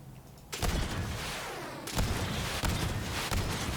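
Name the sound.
rapid fire from a launcher in a video game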